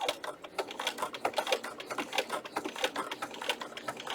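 A sewing machine stitches fabric around a curve for a custom book protector in quick, rhythmic ticking bursts, moderately close and fairly quiet, with no voices.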